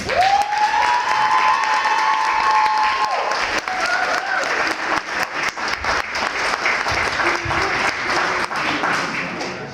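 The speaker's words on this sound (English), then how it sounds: "I want everyone to give Jenna a round of applause" Audience applause fills a hall at a 2023 Detroit Story Hour event: dense, continuous clapping at close range that carries through the whole stretch, with a faint voice briefly audible near the start.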